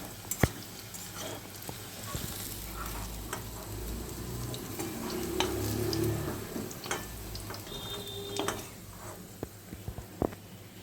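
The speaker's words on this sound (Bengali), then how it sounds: "আলু আর বেগুনগুলো ভালো করে তেলের মধ্যে আগে প্রথমে ভেজে নেব।" Potatoes and eggplant frying in oil for a Bengali fish charchari, a soft, fairly quiet sizzle with spoon scrapes and clinks, swelling briefly in the middle; a faint voice is heard now and then.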